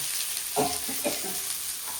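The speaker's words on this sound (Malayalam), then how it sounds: "ഞാൻ ഇതാക്കുന്ന കഴിച്ച് മീനിങ്ങനെ പൊരിക്കുന്നുണ്ട് കേട്ടോ" Close, continuous sizzling of fish frying in a pan, with a few soft scraping stirs breaking through the crackle.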